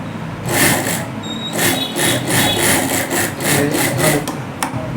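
A sewing machine runs in repeated bursts while stitching along the edge of a round fabric neckline. The rhythmic mechanical whirring is steady and close, with short pauses between runs and no talk.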